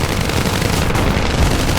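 Rapid aircraft machine gun fire from a fighter plane in a War Thunder air battle, a dense, continuous loud rattle of gunfire filling the whole moment with no pauses.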